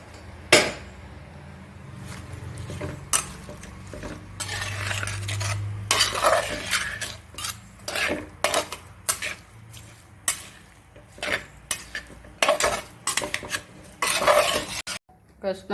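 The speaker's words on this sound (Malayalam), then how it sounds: "ഇതിൻ്റെ കൂടെ കൊഞ്ചും ഇട്ട് കൊടുക്കുകയാണ്. അതോടെ ഒന്ന് വഴണ്ട് കിട്ടുമല്ലോ." Prawns are sautéed in a pan for prawn theeyal, with a metal spoon repeatedly scraping and clanking against the pan in an irregular rhythm over a faint, steady sizzle, close up and without talk.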